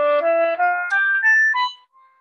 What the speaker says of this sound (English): So first I'll play a scale for you.